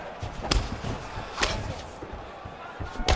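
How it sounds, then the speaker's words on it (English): Punches landing in a UFC 4 video game fight inside an arena, with a few sharp heavy thuds spread across the clip over a continuous crowd and commentary murmur. "Big punch lands over the top."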